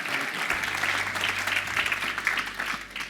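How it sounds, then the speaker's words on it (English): An audience claps steadily throughout a health care talk event welcoming a hospital CEO to the stage, a dense, moderately loud round of applause with a low hum underneath. "Let's give him a round of applause, CEO of Parkland Hospital."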